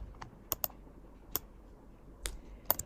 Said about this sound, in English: Click on T on your keyboard and type model.